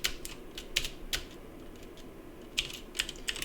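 Close typing on a computer keyboard, quick bursts of crisp keystrokes separated by short pauses as a command is entered.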